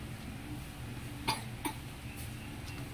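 A person coughs twice in quick succession, short and fairly faint, over a quiet indoor background hum.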